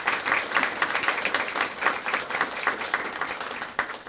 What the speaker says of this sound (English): let's just give them a round of applause too for their kind donations every month